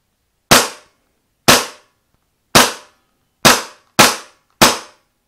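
An airsoft HK USP 45 replica pistol is dry-fired with no BBs, six sharp, loud, close snapping shots at roughly one-second intervals, the last three coming quicker, each cut off cleanly with silence between.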